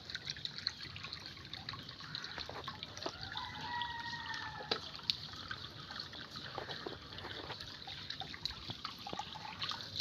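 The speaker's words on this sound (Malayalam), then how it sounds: "വെള്ളം അത്യാവശ്യം ഫ്ലോയിലൊക്കെ പോകുന്നുണ്ട്." Water from a fish tank trickles and gurgles steadily out through a drain pipe. The flow is continuous and fairly quiet, with small drips and splashes scattered through it and no talking.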